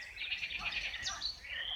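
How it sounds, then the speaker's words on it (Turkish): Nightingale song mixed with frog calls at a lakeside in nature, a faint tangle of high warbling and chirping over a low murmur of ambient noise, continuous and distant. "Kurbağa sesleri, bülbül sesleri."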